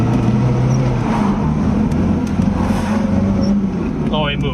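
Classic car bought out of a lock-up, driving on a motorway, with a loud, steady engine drone and road roar close inside the cabin, and a voice talking over the noise.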